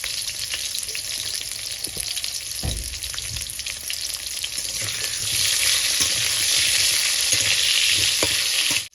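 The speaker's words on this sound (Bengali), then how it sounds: "প্রথমে আলুগুলো আমি প্রথমে ভেজে নেব" Long-cut potatoes sizzle in mustard oil in a wok, a dense, continuous crackle with occasional stirring scrapes, swelling louder toward the end before cutting off abruptly.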